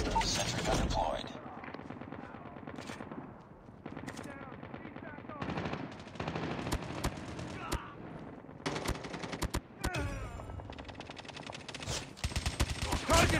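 A sentry gun firing in Call of Duty on the Nuketown 2 map, rapid bursts of automatic gunfire among scattered shots and explosions, with game voices calling out in between.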